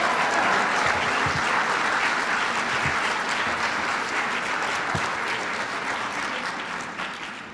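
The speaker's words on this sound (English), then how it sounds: "let's give her a round of applause to recognize her achievements" Sustained, dense applause from an audience at a women's awards event, loud and even, slowly fading toward the end, with a few faint voices beneath.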